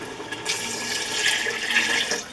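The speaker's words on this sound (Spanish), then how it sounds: "Le vamos a tirar agua, agregar agua." Water gushes into a cooking pot of mondongo, a Spanish tripe stew, as a continuous hissing pour that starts after a brief pause and runs steadily to the end, with no voices.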